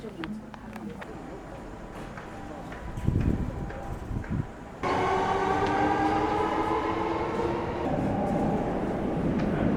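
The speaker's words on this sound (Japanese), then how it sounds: "一番乗り場に到着の電車は。" A train arriving at platform one of a Kyoto station rumbles and clatters close by, its rolling noise swelling suddenly into a loud steady roar with screeching wheel tones, and a voice speaks faintly beneath.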